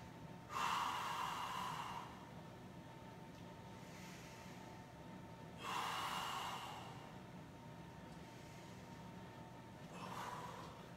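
Three slow, audible breaths, each a soft snort-like exhale, come a few seconds apart, near and fairly quiet, while a person holds a stretch during a yoga class.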